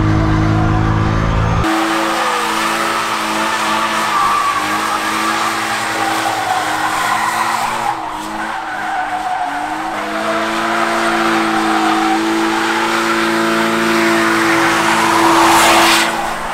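A drifting car's engine revs hard and high while tires screech and skid continuously, loud and close, rising and falling through a long drift.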